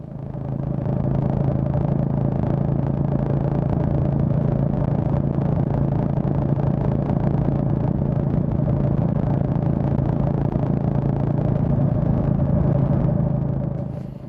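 A Honda GB350 single-cylinder motorcycle cruises steadily in fifth gear on the road, its low, even engine drone running unbroken and loud throughout with wind rumble mixed in.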